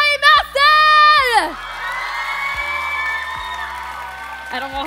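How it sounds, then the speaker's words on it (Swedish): Audience at a cosplay contest cheering and whooping loudly, with a burst of shouts at the start followed by sustained crowd noise and applause under a loud amplified voice. "Och nu kommer jag be om en ännu större applåd för alla i Master!"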